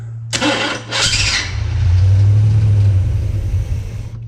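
A 1979 Chevy C10 squarebody engine, left sitting for over ten years, cranks with a short starter burst and then catches into a loud, close, steady low rumble that runs for a couple of seconds before winding down.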